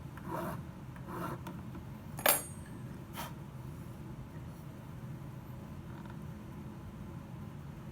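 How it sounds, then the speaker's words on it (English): A metal file rasps across the cut end of a wire during riveting work, with a few faint, scattered scraping strokes over a quiet background hum. "File the cut end."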